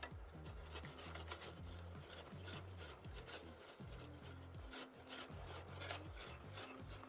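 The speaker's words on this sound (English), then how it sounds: "whisk in that heavy cream" Heavy cream is whisked into a Cajun shrimp pasta sauce in a pan, making continuous rapid scraping and rasping strokes close by, with no talking.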